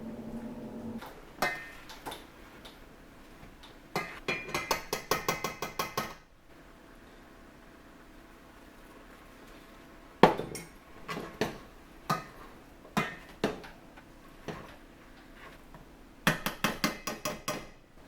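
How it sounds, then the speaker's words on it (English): Boiled potatoes being mashed in a pot with a masher, with bursts of rapid knocking and clunking against the pot sides separated by quieter pauses, close by with no talking. "you're going to start mashing potatoes"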